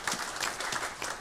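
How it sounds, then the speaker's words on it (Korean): A church congregation applauding during a Sunday service, brief soft clapping at a distance, fairly faint and steady. "우리 박수로 한번 축복하시겠습니다."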